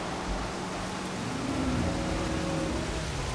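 Heavy rain pours down in the dinosaur park game Jurassic World Evolution, a dense, steady hiss filling the scene from start to finish, with a vehicle's faint rising engine whine underneath and no talking.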